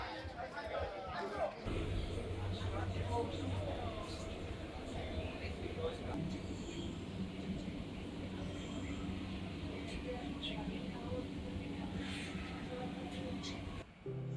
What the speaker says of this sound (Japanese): ファンフェスティバルへは市内の地下鉄、通称メトロを使って移動しました。